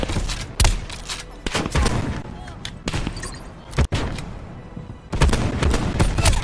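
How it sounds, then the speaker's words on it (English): Sniper rifle gunfire in a multiplayer video game, with sharp cracks fired every second or so and scattered other shots and game noise between them, loud and close. "Sniper firing."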